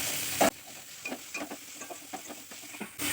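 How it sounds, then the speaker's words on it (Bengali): Capsicum and tomato fry with golden onions for veg Manchurian, a soft sizzle beneath repeated scraping stirs in a quick uneven rhythm, close by with no talk. "আমি এর মধ্যে দিয়ে দিচ্ছি কিছুটা ক্যাপসিকাম। আর দিয়ে দিচ্ছি টমেটো।"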